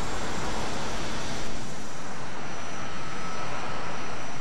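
A fast plane's engine in the military game Arma drones as a loud, continuous broadband roar with a high whine, steady throughout with no pauses.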